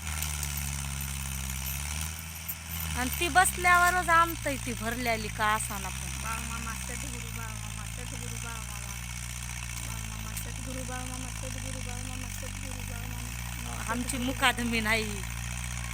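A tractor engine idles with a steady low drone that runs the whole way through, while several people talk over it.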